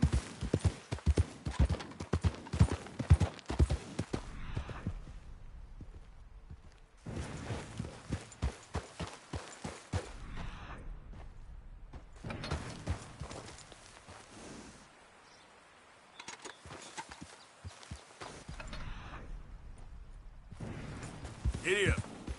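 Galloping horse hooves in Red Dead Redemption 2, a fast, loud clip-clop rhythm in repeated bursts with short gaps, while a voice talks over parts of it.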